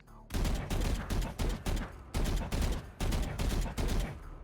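Rapid bursts of gunfire from counter-strafing in the video game Valorant, loud and close, arriving in several short clusters separated by brief gaps, with no talking.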